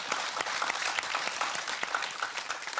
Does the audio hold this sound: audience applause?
yes